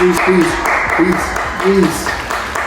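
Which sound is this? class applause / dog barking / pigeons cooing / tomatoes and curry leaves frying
class applause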